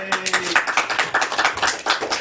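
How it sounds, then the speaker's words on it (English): Toastmasters club members clapping at a meeting: a steady, fairly close patter of hand claps in uneven bursts that keeps going throughout, with a brief low tone at the start. "You can clap better than that."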